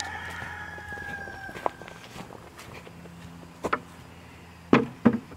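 Chickens around a DIY coop, a rooster crowing and hens giving scattered clucks, with footsteps and a few sharp knocks nearby.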